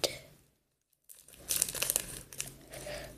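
Plastic packaging for a squishy toy being cut, giving a brief crinkle, then a pause and a burst of crackling, tearing plastic rustles up close at moderate loudness.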